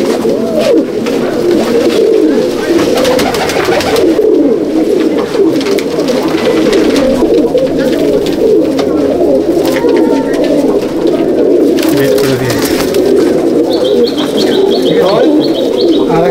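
Malbai/Panjabi pigeons in a loft coo continuously in a dense, close chorus of low throaty calls, with occasional higher chirps and faint background voices.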